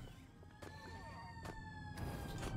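Police car siren in the Destroy All Humans video game, a steady wailing tone with sliding harmonics running throughout at moderate level, broken by a few brief broadband bursts of game noise.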